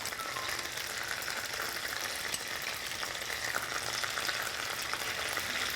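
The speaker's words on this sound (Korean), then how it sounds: "여기서 어느 정도 쓰면 제가 짜장 소스를 넣을게요" Jajang black bean sauce fries in a hot wok with a steady, dense sizzle that carries on without a break, close and fairly loud, with no talking over it.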